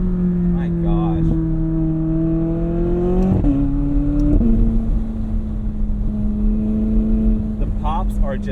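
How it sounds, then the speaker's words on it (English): A 2020 McLaren 600LT Spider drop-top rumbles loudly through a sustained exhaust drone that shifts pitch, with crackling exhaust pops near the start and end, as a person speaks over it. "The pops are just so loud."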